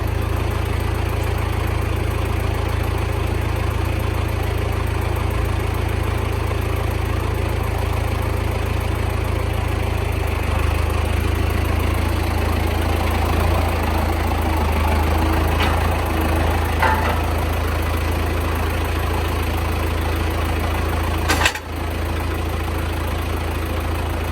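Tractor diesel engine idling steadily on a farm, a loud continuous low rumble that holds even throughout with a brief clunk near the end and no talk.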